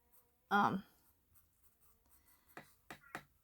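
Darker pencil drawing on paper, a few brief scratchy strokes close by, one firmer stroke followed by a couple of lighter ones, with quiet gaps in between.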